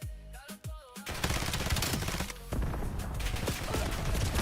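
Rapid automatic gunfire in the Call of Duty video game, loud and dense bursts that fire almost continuously after a brief opening of scattered game sounds.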